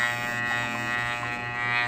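A washing machine motor with a humming fault gives off a steady electric buzz, a close, unbroken drone with no voices.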